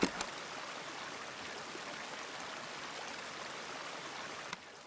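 Fresh stream water flows steadily in the game Season: A Letter to the Future, a continuous close rushing and trickling that stays alone at an even level with no voices.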